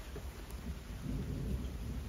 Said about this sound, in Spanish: Y hay una tormenta, Hay una pero tormenta muy fuerte.